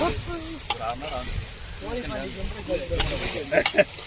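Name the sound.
stirring chicken curry cooking in pot outdoors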